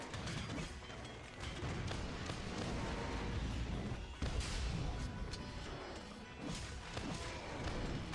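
A switch axe performs a wild swing in a Monster Hunter video game, heard as dense, crashing impact noise with heavy thuds, loud and continuous throughout.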